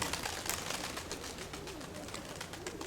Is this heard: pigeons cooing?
yes